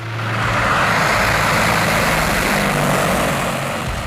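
Military aircraft roar past during a Russian naval exercise, a loud broad rumbling drone that swells in and fades slightly, continuous and close, with no talking.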